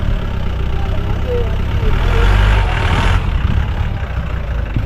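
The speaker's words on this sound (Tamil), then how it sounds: "இந்த ஏற்றத்தில் வண்டி ஏற முடியல" A vehicle climbing a steep trekking road on Meesapulimala runs as a loud, continuous engine rumble that swells slightly midway, with voices faintly beneath it.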